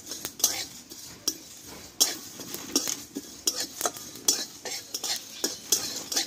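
A metal spoon stirs and scrapes panch phoron spices frying in a pan, giving repeated sharp clinks and scrapes in an irregular rhythm, close and fairly loud, with only a faint sizzle underneath.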